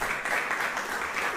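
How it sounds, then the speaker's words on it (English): Crowd applause at an outdoor political cottage meeting in Oropouche East, Trinidad, a steady wash of clapping holding for just over a second and swelling slightly at the very end. "Round of applause."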